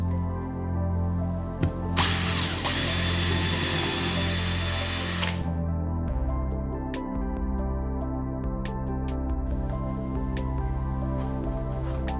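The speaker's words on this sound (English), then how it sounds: "and drill a couple of holes." A power drill whirs loudly for a few seconds while drilling holes in rubber, then stops, leaving a steady low machine hum with scattered faint clicks.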